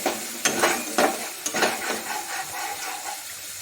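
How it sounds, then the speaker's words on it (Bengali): Spice paste for a black pomfret curry sizzles in a pan while a spatula stirs with several sharp scraping strokes early on, then a softer steady frying. "এবার মশলাটাকে আরো 3-4 মিনিট মতন ভালো করে কষিয়ে নেব"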